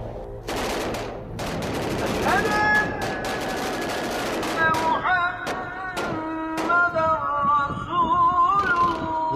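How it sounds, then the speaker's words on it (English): Sporadic gunfire echoes through a city as a sound effect, with repeated loud cracks and bursts over a dense, rumbling background that also carries sustained tonal sounds. "what started as sporadic gunfire quickly became overwhelming from all directions"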